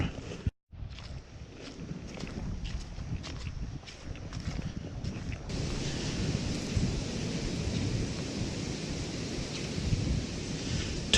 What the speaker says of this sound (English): I don't like this wind. It's really kicking up and starting to swirl.